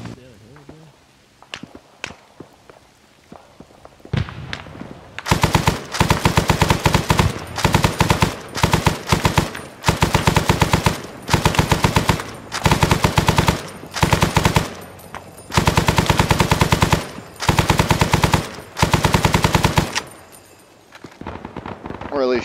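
Sustained bursts of machine gun fire in the military shooter Arma 3, loud and close, repeating in rapid rattling volleys with short gaps, preceded by a few scattered single shots.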